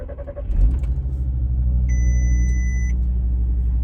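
An Audi RS3 with a newly fitted Powerflex gearbox mount starts up: a short cranking burst gives way to a deep, steady idle rumble, close and loud, with a brief electronic chime partway through.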